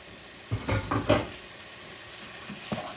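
Pieces of alligator meat sizzle in a pot of bayou stew as they are stirred in, with a few short scraping stirs and bursts of frying up close against a quiet background.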